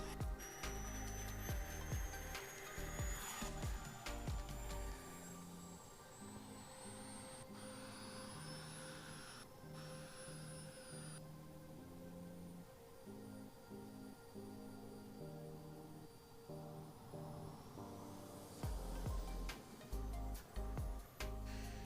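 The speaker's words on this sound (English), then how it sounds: "So this is the Sukhoi 30 from Elster Jets. Have a listen to this." A Sukhoi Su-30 jet from Elster Jets at an air show gives off a sustained turbine whine whose pitch rises and falls, fairly faint and heard alone with no talk.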